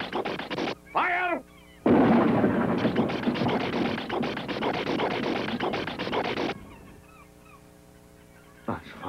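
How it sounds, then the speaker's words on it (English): A cannon is fired on a captain's order in a 1984 film, a loud sustained blast roaring for several seconds after a few brief noises, then dropping away to quiet with faint chirping in the background. "Why did you fire this cannon?"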